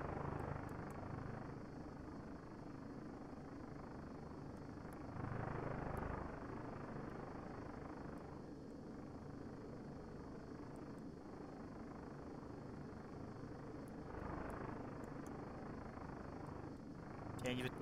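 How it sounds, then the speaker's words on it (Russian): Helicopters fly in a military video game near a border, heard as a faint, steady rotor drone that swells and fades at times, with talk over it. "там вертолеты, похоже, летят"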